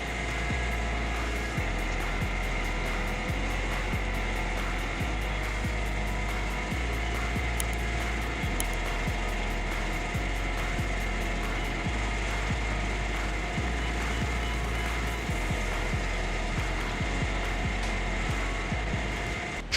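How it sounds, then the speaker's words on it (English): A Woodcracker C350 tree-cutting machine works steadily along a traffic route. A continuous loud motor drone runs under repeated rattling, crunching cutting noises, and no one talks. "The Woodcracker C350 is the ideal mower for maintenance tree cutting work along traffic routes."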